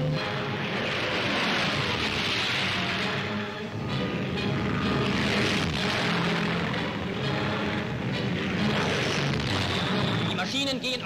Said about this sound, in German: Unsere Jäger und Zerstörer starten.